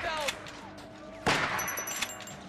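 A single sharp, loud gunshot cracks out midway through a scene in The Walking Dead video game, set against quieter game ambience.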